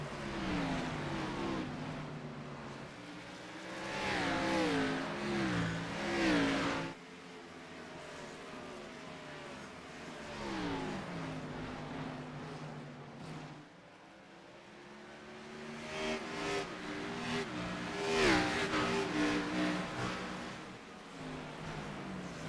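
Race cars in a Pavement Cup Series race roar past on the track in repeated waves, their engine notes rising and falling as each pack sweeps by, loud and near with brief lulls between passes.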